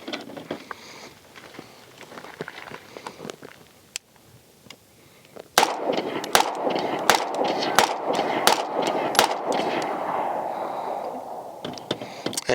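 Staccato XC pistol fitted with an aluminum metal grip, fired in a rapid string of sharp, closely spaced shots at an outdoor range after a quieter stretch with light voices.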